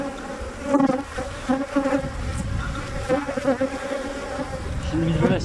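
Honey bees buzzing around the hives during beekeeping work, a dense continuous drone with many wings overlapping, close and steady, with occasional handling noises.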